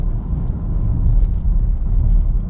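Opel Vectra C car cruising on a road at about 100 km/h with a steering fault that makes it wander, heard as a loud, steady low rumble of engine and road noise from inside the cabin, without talk.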